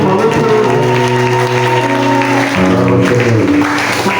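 A church congregation at a Sunday service claps steadily and continuously, the applause blending with loud sustained music playing throughout.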